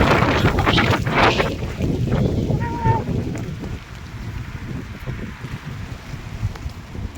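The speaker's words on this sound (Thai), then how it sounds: "ลมลมลม" Cold wind gusts on a walk outdoors, rumbling against the microphone in uneven buffets that are strongest at first and ease slightly later, with no clear talk over it.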